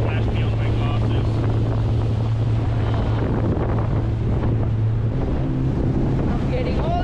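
A small boat pushes slowly through choppy water off South Stradbroke Island, with steady wind buffeting the microphone, a constant low engine drone and rushing spray and splashes from side waves throughout.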